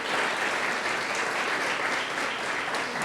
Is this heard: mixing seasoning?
no